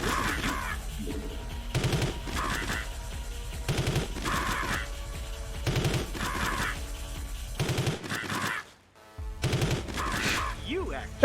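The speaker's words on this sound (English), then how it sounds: "I have what's called a grenade launcher" Repeated bursts of explosive gunfire from a grenade launcher in a video game, coming in regular volleys roughly every two seconds with a short silent gap near the end, loud and close with no talk.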